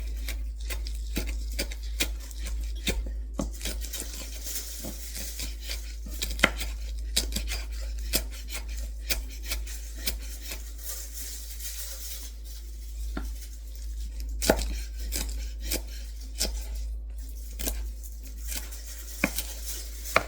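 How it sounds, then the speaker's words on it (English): A knife chopping cilantro on a cutting board, with a quick run of sharp, irregular taps close by that continue steadily without talk. "And you want to grip it firm, and you just want to start chopping."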